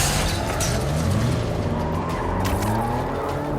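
In the video game Marvel's Spider-Man 2 on PS5, a car engine roars steadily with rising and falling tire squeals and skidding, loud and continuous throughout.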